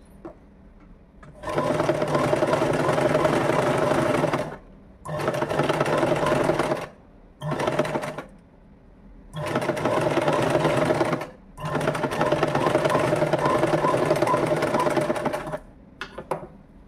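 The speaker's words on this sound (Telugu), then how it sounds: "First neck కుట్టేస్తా. ఓకేనా, ఇప్పుడు స్టిచ్ చేసేస్తా." Sewing machine stitching the neck of a frock, running in five sustained bursts of steady whirring stitching separated by short pauses, close and loud with no talk.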